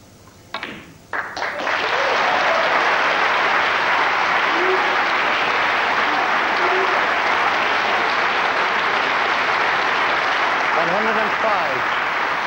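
A snooker crowd applauds after a century break at the 2002 World Championship semi-final. A couple of sharp ball clicks are followed by a loud, sustained ovation from a full arena, with a commentator speaking softly underneath.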